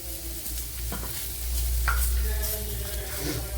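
Sliced onions frying with salt in a hot pan for a soya chunks curry, a steady close sizzle with a few scraping stirs of a spoon across the pan.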